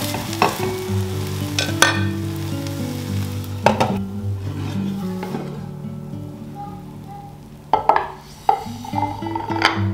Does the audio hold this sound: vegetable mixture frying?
yes